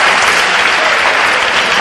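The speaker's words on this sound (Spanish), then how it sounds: "Un aplauso" Loud, dense applause fills the hall at a student science congress in Spain, steady and continuous throughout with no break.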